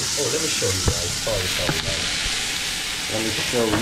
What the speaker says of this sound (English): I'm just cooking it right here.